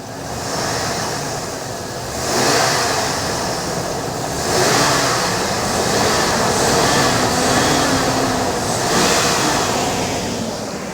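An old-school car engine is revved by pulling its throttle cable by hand, rising in several swells of roaring engine noise over a steady idle, close and loud, without speech.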